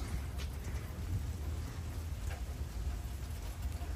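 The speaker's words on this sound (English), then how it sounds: "It's raining today." Rain falls outdoors as a steady, dense hiss with low rumbling beneath it. The sound is moderately faint and continuous for four seconds, and no voices are heard.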